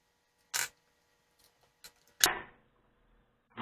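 A few sparse, brief scraping clicks and a sharper rasping burst with a short decay, close and fairly quiet, as a flathead screwdriver backs out the handle screw of a Zebco 888 spinning reel, with near silence between the sounds.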